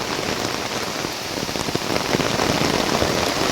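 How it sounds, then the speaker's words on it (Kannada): Heavy rain pours steadily in a dense, continuous hiss, drops pattering on a surface close by with no voices. "ಜೋರು ಮಳೆ ಬರ್ತಾ ಉಂಟು ನೋಡಿ"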